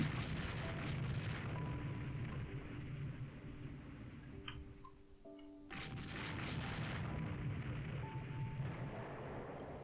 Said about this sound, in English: If I saw correctly, there was a torpedo that it just hit.